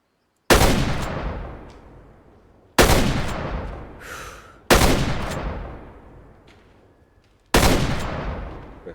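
Four heavy slug shotgun blasts fired while hunting in the game Way of the Hunter, each a sharp loud crack with a long fading tail, spaced about two seconds apart with a faint reload click between.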